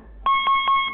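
A workout interval timer in an MMA and fitness gym sounds a rapid series of four or five loud electronic beeps in steady rhythm.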